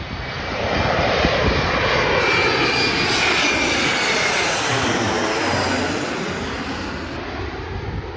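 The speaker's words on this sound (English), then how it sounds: "E170LR American Eagle from Asheville, North Carolina, I think" An American Eagle Embraer E170LR jet at O'Hare passes close by, its engine roar sweeping in pitch with a high whine, loud and steady for several seconds before easing, no voices.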